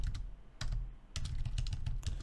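Someone types on a computer keyboard during terminal work, a close run of quick clicking keystrokes in short bursts with brief pauses between them.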